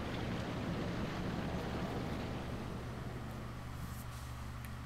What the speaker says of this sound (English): Sound of the waterfall seems to blow.